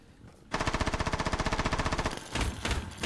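Rapid automatic gunfire in Rainbow Six Siege during a competitive match, a sustained burst of evenly spaced shots after a short quiet lead-in, pausing briefly before a second shorter burst.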